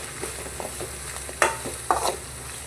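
Ginger fries in a pan for a military-hotel-style goat head and leg curry, with a close sizzle broken by a couple of sharp spatula scrapes and stirs, and no one speaking.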